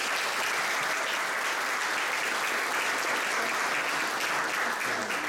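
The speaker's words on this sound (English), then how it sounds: "I believe it would be only appropriate if we were to acknowledge their invaluable contributions to tonight's event with a well-deserved round of applause." Steady, full audience applause fills the room at an evening event, a dense continuous wash of many hands clapping at even loudness throughout with no voices.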